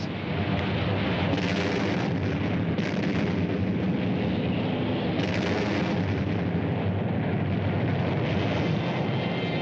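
U.S. warships bombard the shore with naval gunfire, a dense continuous roar of heavy booms and rumbling blasts, loud and sustained, with surges in intensity.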